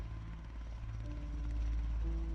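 A helicopter flies over water, a steady low rotor rumble with a faint whining tone, constant and fairly distant, swelling slightly toward the end.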